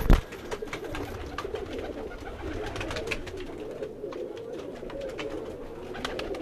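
A grey pigeon, about four years old, gives soft low coos on a rooftop loft, near but quiet, with faint clicks and rustling around it after a brief bump at the start.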